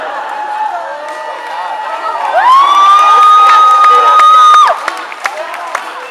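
Crowd at a cosplay stage show at Japan Expo cheers loudly, with a long high sustained shout rising above the roar and scattered claps as it fades.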